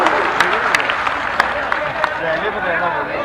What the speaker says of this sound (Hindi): एक बार तालियां बजाएं जोरदार